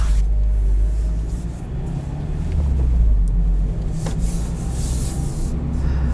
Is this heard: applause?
no